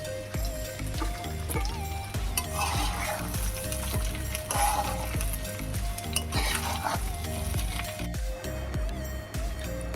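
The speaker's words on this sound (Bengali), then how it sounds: "এবার একে তেলের মধ্যে দিয়ে দিচ্ছি সব সবজিগুলো, চিকেন, ডিম এগুলো। তারপর ভাত দেব, তারপর সেটাকে সুন্দর করে মিশিয়ে নেব।" Rice, vegetables, chicken and egg stir-fried in oil in a kadai for mixed fried rice, with continuous sizzling broken by repeated scraping and clinking of a spatula against the pan.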